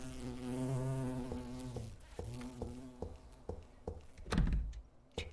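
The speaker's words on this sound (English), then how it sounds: "If that bee was particularly loud, I apologize" A bee buzzing in a gothic anime video game, a steady droning hum at first that gives way to scattered thumps and clunks.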